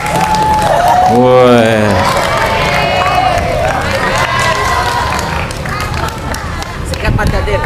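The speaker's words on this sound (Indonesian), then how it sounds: "Beri tepuk tangan untuk Fatir Rek." Crowd at a Quran recitation and prize-giving gathering claps and cheers for a motivational speaker, lively close clapping mixed with shouts and babble, one voice calling out early.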